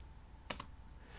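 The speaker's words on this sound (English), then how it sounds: "if I type in dir" Two quick keystrokes on a computer keyboard while entering a command into a Cisco router, close and quiet against a faint background hiss.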